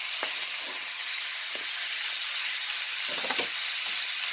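Butter and rendering beef fat sizzling steadily in a hot cast iron skillet, a constant bright hiss with a few soft clinks and stirring scrapes.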